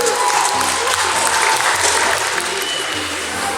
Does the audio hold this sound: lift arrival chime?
no